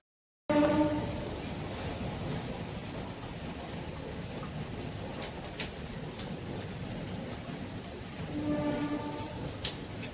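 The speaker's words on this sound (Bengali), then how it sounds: "ট্রেন আসছে।" A train passes near a house, heard as a steady low rumbling roar with a faint horn-like tonal note at the start and again toward the end.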